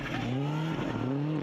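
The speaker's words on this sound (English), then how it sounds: "Listen to the inputs there on the throttle and the brake just to get the car to turn in." Rally car on a snowy stage, its engine note rising and dipping with quick throttle and brake inputs as it turns in, close and loud with harmonics sweeping up and down.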